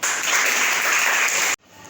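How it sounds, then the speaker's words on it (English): Audience clapping for a student's speech on nutrition in plants, a dense burst of applause lasting about a second and a half before cutting off abruptly into near silence. "give a big round of applause for Kanika."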